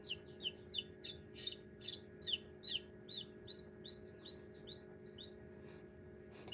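A baby chick peeps in a steady run of about fifteen high, clear chirps while hatching from its egg, close and distinct over a faint constant hum, with no talking.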